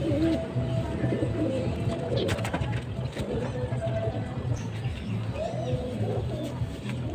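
Domestic pigeons cooing steadily throughout, with overlapping low coos from several birds and faint chirps in the background, fairly close.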